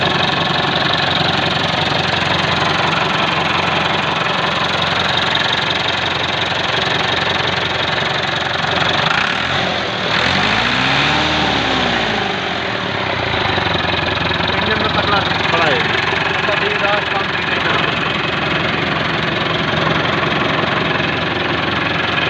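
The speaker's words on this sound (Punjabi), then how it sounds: "ਟਰੈਕਟਰ।" A Massey Ferguson 385 tractor engine idles nearby with a steady, knocking diesel rumble that runs unbroken through the whole stretch.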